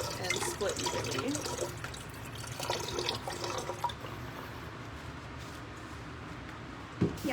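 Water splashes and trickles as it is poured into a plankton sample splitter in a lab, a continuous liquid wash that thins out toward the end, with voices faintly in the background.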